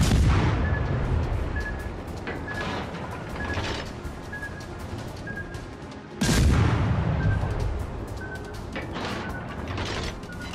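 Warship guns fire in the World of Warships: Legends game, heavy booming salvos over a dense, loud roar of battle noise, with a big blast midway; no speech.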